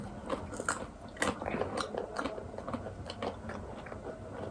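Crisp, irregular crunching and biting of raw vegetables being chewed up close, with repeated sharp crunches over a soft mouth-noise background and no talking.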